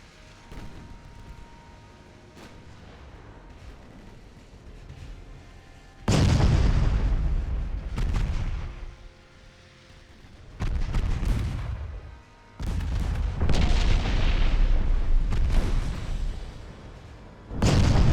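Naval gunfire in the video game Ultimate Admiral Dreadnoughts, a series of heavy rolling booms and salvos, loud and sustained in bursts with quieter stretches of distant rumbling between them, no talking.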